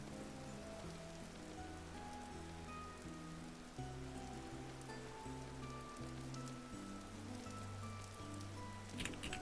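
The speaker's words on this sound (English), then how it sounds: "Oh, it's raining." Steady rain in the video game Vintage Story patters on a surface, with a soft tonal background drone underneath and no voices.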